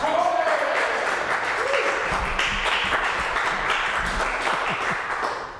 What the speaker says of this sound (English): how about a round of applause for our guest scorekeeper, Canadian broadcaster Hal Roberts.